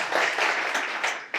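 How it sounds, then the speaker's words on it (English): Audience applause at an archaeology talk, a brief burst of clapping from a room full of people that swells and fades within a second or so. "please give them a round of applause"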